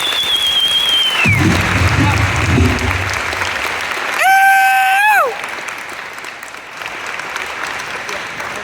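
Audience applause rises after a family's speech at a charity dance marathon, a steady wash of clapping from a large crowd in a hall, briefly overlaid by a sustained tonal whistle, continuing loud throughout.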